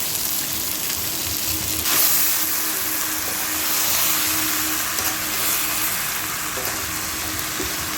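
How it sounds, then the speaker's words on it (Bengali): Washed Gobindobhog rice, about a kilo, is stirred and fried in a pot, giving a loud, continuous sizzle with scraping stir strokes throughout and no talking. "গোবিন্দভোগ চালটা দেওয়ার পর আমরা ভালো করে এর সঙ্গে মিশিয়ে নিয়ে ভালো করে ভেজে নেব।"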